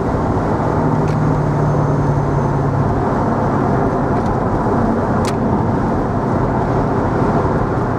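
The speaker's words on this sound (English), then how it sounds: "V8 noise." A 2003 Mercedes SL55 AMG convertible's V8 engine roars continuously at close range, a deep heavy rumble under cabin noise that holds steady throughout.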